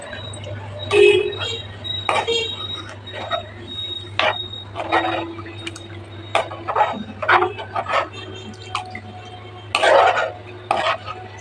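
A spoon stirs buttermilk into a pot of rasam, giving repeated scraping and clinking strokes against the metal at close range, with a steady low hum underneath.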